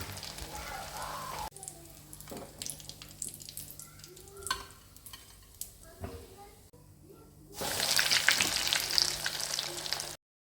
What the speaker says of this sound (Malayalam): ചട്ടി ചെറുതാവുകൊണ്ട് ഞാൻ ഓരോന്നോരോന്ന് പൊരിച്ചെടുക്കുന്നത്